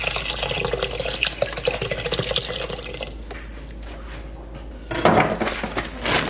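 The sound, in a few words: vegetable broth being poured into a pot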